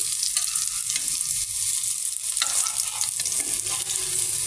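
Lentil fritters frying in hot oil in a pan as they are turned over, a steady loud crackling sizzle with scraping stir sounds throughout, no voices.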